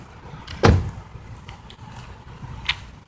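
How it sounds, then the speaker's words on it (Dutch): A Chrysler 300 car door shuts once with a single solid thud near the start, followed by faint clicks and quiet background afterward. "Doe de deur even dicht"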